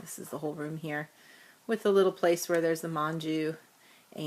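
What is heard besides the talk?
No distinct noise like a dog, phone or traffic.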